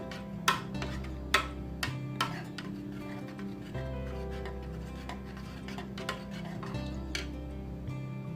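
A spoon stirs oats vegetable soup with lemon juice and cumin in a pot, making irregular close clinks and taps against the metal over a soft, low background.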